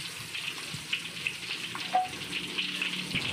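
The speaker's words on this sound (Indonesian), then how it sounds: "Bawang putih, bawang merah, dan cabai yang tadi diiris ditumis dulu sampai harum." Sliced garlic, shallots and chili sautéing in hot oil, a fairly soft, steady sizzle with scattered crackles and small pops throughout.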